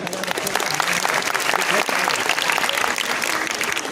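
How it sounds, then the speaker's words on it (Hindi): Audience applause at a school or college gathering with a vice chancellor, a dense steady wash of many hands clapping loudly and continuously throughout, with a brief dip near the middle. "तालियां बजाइए"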